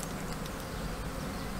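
Honey bees buzz at an open hive where emergency queen cells have formed, giving a soft, steady drone close by for a short moment with no voices.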